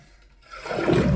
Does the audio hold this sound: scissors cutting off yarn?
no